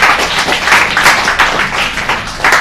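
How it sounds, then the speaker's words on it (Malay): Students in a secondary-school Malay language class clap for themselves, a dense burst of close, loud applause lasting a few seconds with uneven swells. "Bagi tepukan untuk diri sendiri"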